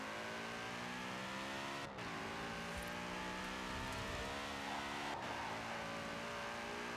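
A Mercedes C63 with a 6.3-litre V8 drives in the racing game Forza Horizon 4, its engine note holding a steady, harmonic drone that shifts pitch twice as gears change, heard alone without talk.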